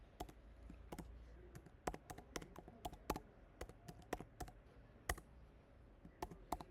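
Quick bursts of keystrokes on a computer keyboard as names are typed into a form, crisp close taps in uneven clusters with short pauses, alone and quiet.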